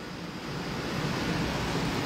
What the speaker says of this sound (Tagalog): maganda po yung dagat